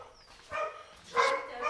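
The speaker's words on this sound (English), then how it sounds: "And the dogs." Dogs barking outdoors among papaya trees, two short, fairly faint barks about half a second apart, with a third starting at the end, no talk.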